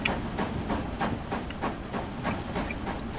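Roblox video game train running in a Red Dead Redemption–style setting, with a steady rhythmic clatter and hiss repeating about every half second, fairly loud and continuous with no talking.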